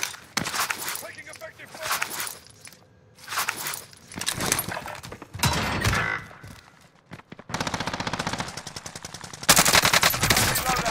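Bursts of automatic gunfire from a KRIG 6 assault rifle in Call of Duty Warzone (Cold War), fast rattling volleys broken by pauses and louder near the end, with footsteps and voices in between.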